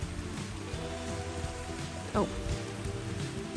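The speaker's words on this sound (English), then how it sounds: "So it's raining." Heavy rain pours steadily in the Scottish Highlands, a dense, continuous hiss of drops hitting surfaces nearby. A person gives a brief exclamation partway through.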